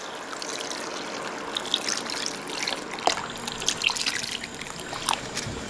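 Bone broth, 1.2 litres, poured into a pot of stir-fried marinated chicken, giving a steady liquid trickle and splash that runs throughout at moderate level with small drips and bubbling bursts, no talking.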